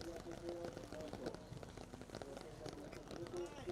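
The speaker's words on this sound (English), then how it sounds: "So the rain has picked up again." Steady rain falls across a grass show-jumping ring at an outdoor equestrian event, a continuous hiss under a commentator's voice and faint background tones.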